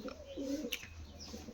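Laldhoma pigeon cooing softly near at hand, a short low throaty coo phrase with a faint chirp in the middle, heard over quiet background noise.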